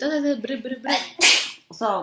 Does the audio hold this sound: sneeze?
yes